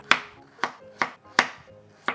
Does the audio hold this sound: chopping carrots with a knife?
yes